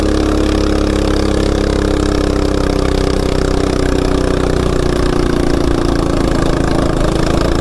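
CT200U-EX mini bike fitted with a 420 big block engine running, a loud, close, steady buzzing engine drone that holds without pause, with no talking.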